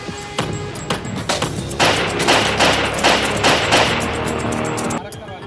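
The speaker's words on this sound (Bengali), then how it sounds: "তারপর সিগন্যালের কাছে গাড়ির গতি কমতেই এলো পাথারি গুলি" Gunfire rains on a businessman's car as it slows near a traffic signal in a Belgharia street shootout: dense, loud bursts of sharp cracks in rapid succession before cutting off.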